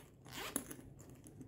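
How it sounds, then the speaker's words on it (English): A zipper on the side of a small convertible backpack is pulled open in one quick, close rasp, heard alone with no talk. "And then we have these two zippers on the side"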